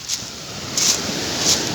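Strong sea waves rushing in, a steady broad roar of water with brief swells of spray, close and loud, mixed with wind buffeting the microphone.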